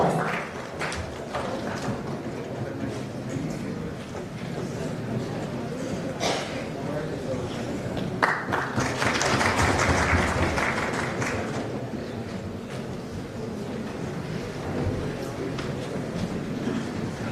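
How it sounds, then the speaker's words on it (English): A conference audience claps in a steady round of applause that swells near the middle, with a speaker's voice over the clapping. "give them a great clap and a round of applause."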